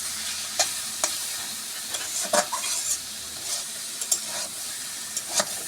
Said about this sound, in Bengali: আমার এদিকে কুমড়া ভাজি হচ্ছে